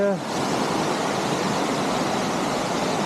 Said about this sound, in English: Running water, white water, yeah, but obviously man-made.